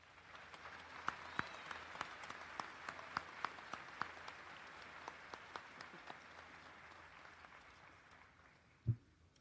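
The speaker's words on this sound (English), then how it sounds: "Please join me in giving these valued educators a round of applause." Graduation ceremony audience applauds the high school educators, a soft, distant wash of clapping with a few sharper individual claps standing out, ending in a single thump.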